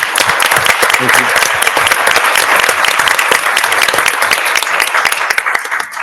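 Sustained applause from a crowd at a city council meeting held for a Women's History Month celebration, loud and steady for several seconds with dense overlapping claps.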